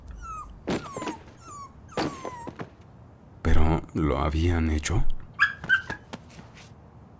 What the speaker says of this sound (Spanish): dentro de la caja brincaba un cachorro tratando de salir